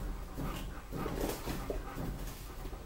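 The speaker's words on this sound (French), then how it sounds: "Ça se fait en présence de mes chiens." Several dogs whimper and whine close by in a home, with soft yips and panting in brief overlapping bursts.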